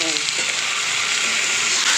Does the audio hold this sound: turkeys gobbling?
no